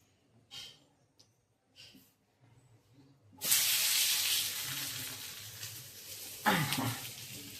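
A thalipeeth flatbread is laid onto an oiled griddle after a few soft handling taps, then a loud, steady close hiss of frying oil takes over, swelling once more near the end; nobody speaks.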